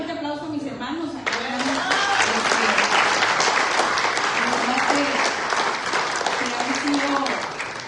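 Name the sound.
church congregation applause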